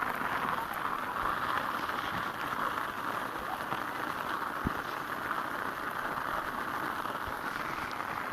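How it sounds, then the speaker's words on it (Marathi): Steady rain pours over a fenugreek field in hilly farmland, a continuous even hiss of drops with no pauses and a few faint taps standing out. "तेव्हा आमच्या भाजी काढली पाऊस चालू आहे पाहू शकता तुम्ही"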